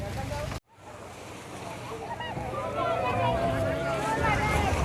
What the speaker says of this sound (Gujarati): પવન જોરદાર છે ભાઈ